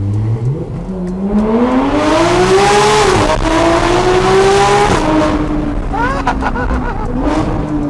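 A Porsche GT3 RS accelerates hard through its gears at high RPM, a loud, raspy engine note climbing steadily in pitch, dropping briefly at a shift, then rising again close up.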